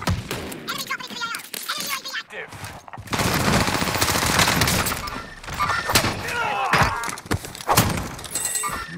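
Gunfire in a Call of Duty Vanguard Warzone match on Rebirth Island: rapid bursts and thuds packed close together, loud and near, mixed with in-game radio voices and talk.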